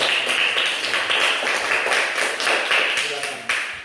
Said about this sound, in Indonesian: Untuk itu kita tepuk tangan sekali lagi untuk teman-teman.